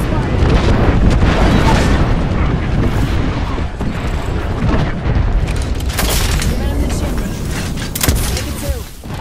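Airstrike in Apex Legends, a dense, continuous wall of loud rumbling explosions and booms over nine seconds, with sharper blasts cutting through near the end.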